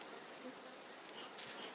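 Honeybees buzz on frames pulled from crowded hive colonies, a close, continuous, hissy drone from many insects with small rises and dips in pitch.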